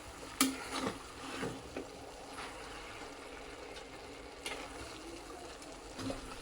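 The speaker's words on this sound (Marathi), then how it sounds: "आता ही भाजी व्यवस्थित मिक्स करून घेऊया" Traditional bhogi bhaji, a vegetable curry for Sankranti, is stirred in a cooking pot: soft, scattered scrapes and clunks of the spoon over a faint background hiss, quiet and close, with no speech.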